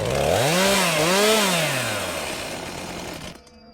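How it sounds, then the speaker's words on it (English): A chainsaw runs loud and close in a home garden, its engine pitch rising and falling in a couple of revving surges before winding down and cutting off near the end. "It was a chainsaw, right in my garden."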